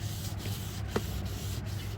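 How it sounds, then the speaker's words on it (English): Wet sandpaper rubs steadily across a car headlight lens, a soft, continuous gritty swish with faint repeating strokes, close and quiet with no talking. "And we're just going to sand it."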